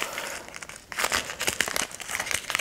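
Plastic packaging around a choker necklace with a cable tie crinkles and rustles in close, repeated bursts as it is handled and opened, after a brief quieter lull.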